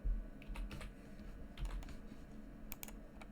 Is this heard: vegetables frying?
no